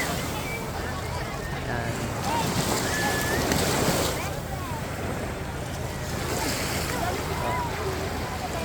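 Surf rolls onto Boracay beach with a steady wash of waves and wind buffeting the microphone, while someone talks over it.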